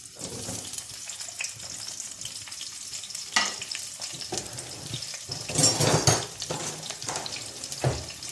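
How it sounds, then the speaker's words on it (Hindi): Continuous crackling sizzle of ginger, garlic and chillies frying in hot oil, with occasional stirring scrapes and clinks of a utensil against the pan. "इनको थोड़ा सा फ्राई करेंगे।"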